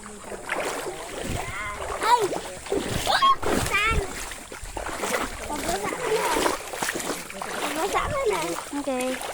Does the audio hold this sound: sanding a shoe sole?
no